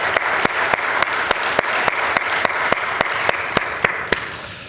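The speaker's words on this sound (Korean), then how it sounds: "우리 하나님께 영광의 박수 올려드리십시다." Steady congregational applause fills a church Sunday worship service, a dense wash of many hands clapping at close range, punctuated by a few sharper individual claps standing out at regular intervals until it begins to fade at the end.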